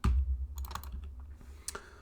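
Close, quick clicking keystrokes on a wireless computer keyboard come in short irregular bursts with brief pauses, and no one speaks.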